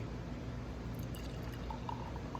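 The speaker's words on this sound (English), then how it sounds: "Let's get a good pour here" Porter beer is poured into a glass, a soft continuous liquid stream with gentle fizz close by, steady throughout with no talking.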